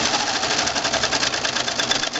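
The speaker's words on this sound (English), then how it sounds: "Okay, our serger thread broke." Serger sewing machine running fast and continuously up close, a dense rapid mechanical whir with a steady stitching rhythm.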